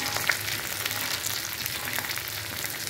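Whole cumin seeds frying in hot oil with onion, crushed ginger and garlic, dried chilli and cumin leaves, village-style cooking; a steady, dense sizzle that holds evenly throughout with no voices.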